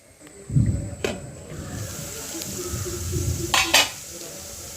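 Carrots sautéing in a pan for Kerala carrot thoran give a steady close sizzle, with stirring scrapes and a couple of sharp utensil clinks on the pan.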